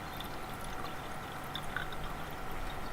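Leftover coolant is poured into the coolant tank of a Holden Cruze, a faint continuous trickle of liquid heard close up with a soft hiss, low in level throughout.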